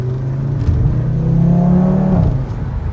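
An Audi TT RS engine roars loudly at a launch-control start, its pitch climbing steadily as it accelerates hard, then dropping briefly at a gear change.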